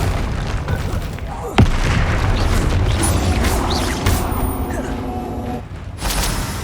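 A Confringo spell explosion in the Hogwarts Legacy video game: a sudden sharp blast cuts through a dense, noisy game soundscape, followed by sustained rumbling and hiss.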